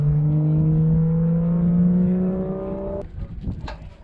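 An Audi RS3 LMS TCR race car engine holds a loud, steady tone with its pitch slowly rising, then cuts off abruptly and leaves scattered mechanical clicks and rattles.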